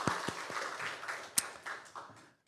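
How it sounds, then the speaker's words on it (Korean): A church congregation claps in applause during a Korean Sunday worship service, a dense patter of many hands with a few sharper individual claps, steady for about two seconds before fading out. "우리 하나님께 영광의 박수 올려드리겠습니다."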